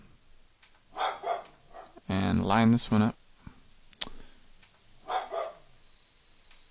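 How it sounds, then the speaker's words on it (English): A pet dog barks in the background of a room during an online poker cash game, one short loud burst of barking amid mouse clicks and someone talking. "You can hear my awesome dog barking in the background."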